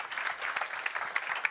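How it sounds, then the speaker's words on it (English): Audience applause closing a sustainable investing panel at an investment conference, a steady dense wash of many hands clapping close by with no voices over it. "Give them a round of applause."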